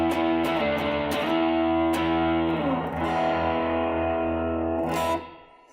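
Distorted electric guitar through a Marshall Plexi style distortion pedal playing chugging riffs and sustained chords, loud and saturated, ending as the last chord rings out and fades.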